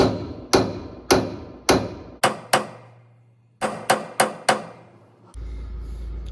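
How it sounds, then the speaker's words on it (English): A hammer drives a chisel against a seized nut on a vehicle in a repair job, giving about ten sharp metallic strikes in uneven bursts with ringing decay between them, then a low rumbling noise at the end. "I'm just going to get my hammer and chisel and try and crack that nut off."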